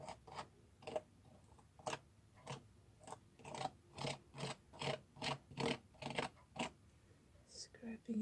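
Paint is scraped off a mixed media artwork in a quiet, close series of short rhythmic scratching strokes, about a dozen in quick succession, with faint soft background sounds.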